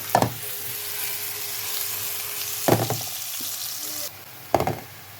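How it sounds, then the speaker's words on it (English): Onion, garlic, sweet pepper and carrot sautéing in a pan, a steady close sizzle broken by three sharp stirring scrapes and clatters, loud and alone without speech. "So I'm just going to saute a bit"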